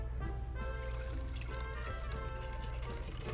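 A thin stream of egg yolk and heavy cream custard mixture pouring into ramekins, a soft steady trickle with a faint low hum beneath it and no talking.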